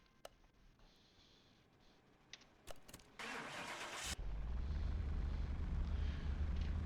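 A car engine in Car Mechanic Simulator 2021, on a dyno with a VW Golf, starts up and builds to a loud, steady roar, with a burst of higher revving partway through.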